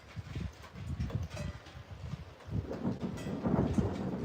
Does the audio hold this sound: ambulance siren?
no